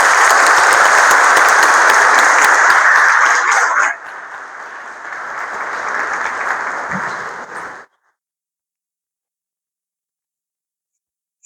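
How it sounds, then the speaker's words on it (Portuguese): An audience at an evening lecture marking a house's anniversary applauds to welcome the guest speaker. Clapping is loud and full for about four seconds, then thins and continues more quietly until it stops abruptly, leaving silence. "vamos receber com aplausos o nosso convidado, Fábio Pereira."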